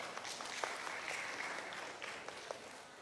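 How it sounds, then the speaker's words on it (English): A conference audience applauds with soft, dense clapping that stays fairly steady and faint for a few seconds. "Let's Please give applause,"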